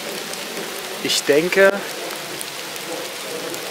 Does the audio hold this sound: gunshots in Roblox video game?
no